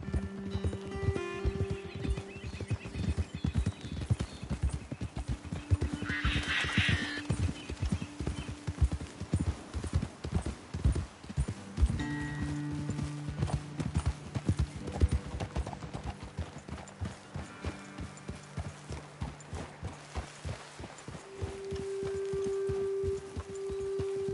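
Horse hooves clip-clop in a steady, continuous rhythm over a long stretch in the video game Red Dead Redemption 2, with a low hum beneath and a brief whinny partway through.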